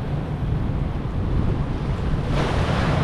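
Ocean surf rolls along a seaside boulevard, a continuous loud wash of waves mixed with strong wind buffeting on the microphone, swelling slightly brighter near the end.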